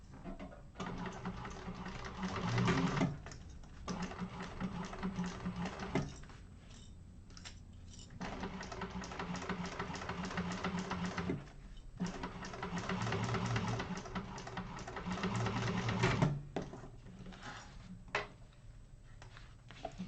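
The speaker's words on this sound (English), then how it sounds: "baste it" A sewing machine bastes the seam of a hidden bag pocket, running in steady rapid bursts separated by short pauses. It is fairly close and heard on its own.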